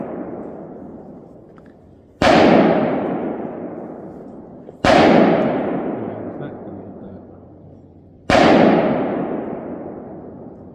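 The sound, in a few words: gunshots during long range shooting drill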